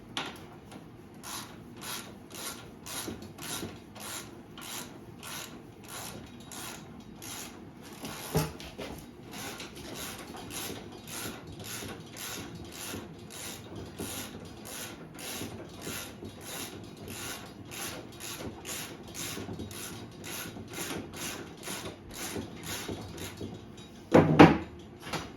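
A ratchet loosens a suspension bolt on a sportbike, a long run of rapid, evenly spaced clicks at close range, with a few louder clunks near the end.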